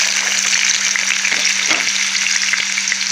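Food frying in hot oil in a pan, pieces floating up as they cook: a steady close sizzle with scattered crackles and pops, over a low constant hum, with no talk.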